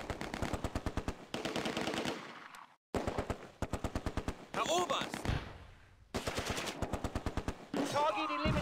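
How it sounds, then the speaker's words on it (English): Bursts of machine gun and rifle fire from the game Close Combat at Arnhem bridge come in rapid, loud rattling volleys separated by short gaps, with clipped game voices heard between some of the shots. "They are under mortar and machine gun fire, with the rifles now joining in."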